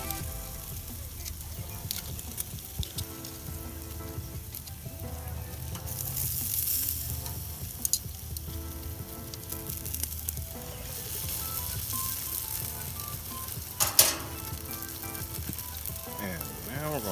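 Filipino pork skewers sizzle and crackle steadily as they are basted on the grill, a continuous close frying hiss with occasional pops and scrapes and no talking over it.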